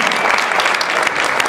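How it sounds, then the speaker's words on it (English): Dense, steady crowd applause filling a short stretch, loud and continuous with no voices over it, for an Ironman triathlete. "that deserves a round of applause"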